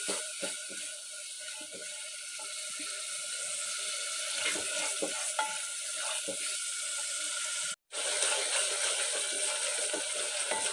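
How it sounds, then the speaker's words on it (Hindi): Green peas roast in a pan with ghee and spice masala, giving a steady, watery hiss of frying with occasional soft stirring taps, close and even, briefly cut silent near the end. "मटरों को भूनेंगे 5 से 6 मिनट।"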